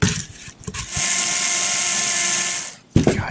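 A power drill whirs loudly and steadily for a couple of seconds, winding up and stopping, with brief clunks and handling noise before and after.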